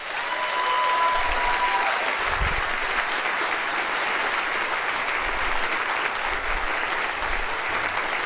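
Sustained applause from a large audience at Utah Valley University's State of the University address, steady and loud throughout with dense clapping filling the space.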